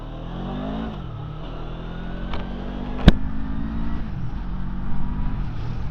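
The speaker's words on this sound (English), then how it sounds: "But if you're sat on it, you can rev it." A QJ Motor motorcycle engine idles close by, then revs up and eases back several times, its throaty pitch rising and falling, with a sharp click midway.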